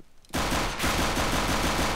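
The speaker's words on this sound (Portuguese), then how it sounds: "Ok, uma ronda de pistola contra o Favas." Pistol fire in a video game match breaks out after a brief quiet moment, becoming a rapid, loud string of close shots that carries on without pause to the end.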